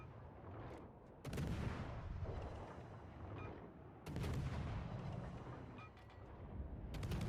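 Heavy naval gun salvos boom from a destroyer in World of Warships, with big blasts at about one and four seconds followed by rumbling, rolling battle noise and distant smaller shots throughout.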